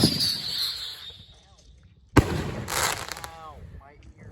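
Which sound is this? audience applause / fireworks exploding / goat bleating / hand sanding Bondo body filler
fireworks exploding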